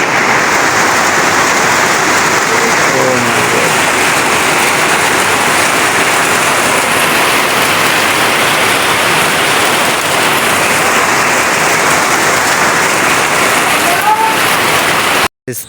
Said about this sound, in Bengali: বৃষ্টি দেখেন কি পরিমাণ বৃষ্টি হইতেছে, এই মাত্র বৃষ্টিটা নামলো